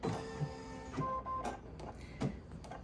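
An embroidery machine starts stitching, giving quick mechanical clicks and whirring needle strokes in an uneven rhythm, close and fairly quiet with no voices.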